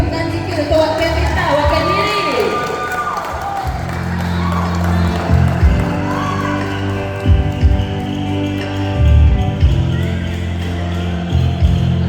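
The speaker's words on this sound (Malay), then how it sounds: "Bagi tepuk tangan sikit untuk wakil kita." Audience at a Miss Borneo Nation pageant during a bike week in a Miri mall applauding and cheering for a contestant, crowd noise and claps mixed with a loud public-address voice and background music.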